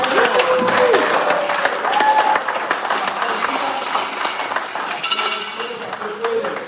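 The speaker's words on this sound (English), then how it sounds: "let's give a round of applause for the Sunday School" Audience applause for a Sunday School group at a family lip sync competition held by a youth group, steady dense clapping with clinks and crowd noise throughout.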